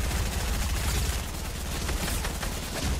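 Rapid bursts of video game gunfire from a Fortnite match, dense and continuous over a low rumbling game background, with no clear voices.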